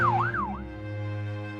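A police car siren wails in a rising and falling sweep twice, then fades out, leaving a steady engine-like hum underneath; loud and near, with no voices.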